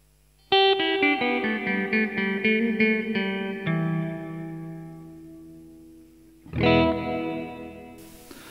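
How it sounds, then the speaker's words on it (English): Guitar played through a Yamaha THR5 practice amp with hall reverb at maximum: a run of picked chords rings out in a long, washy tail, then one loud strum swells and decays into lingering echo, with no talking. "We'll give it maximum reverb."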